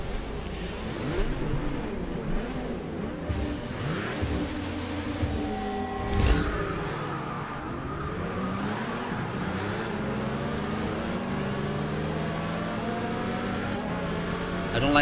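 Race car engines in Forza Motorsport 6 drone and rev through gear changes, with a sharp surge partway through as a car roars close by, then a steady high-pitched whine continuing to the end.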